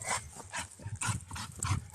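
A dog whimpers and yips in a short run of close, whiny calls, repeating about every half second without talk.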